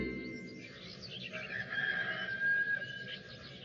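Chicken and rooster sounds, clucking with a drawn-out crow, rise over a busy background bed at moderate loudness; a cartoon setting.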